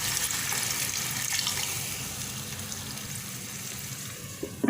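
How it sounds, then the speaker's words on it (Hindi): Water is poured into a pan of chicken kofta curry, a continuous close splashing and trickling rush that stays steady and then stops with a couple of small knocks at the end. "अब इसमें डाल देना है पानी हस्बे ज़रूरत।"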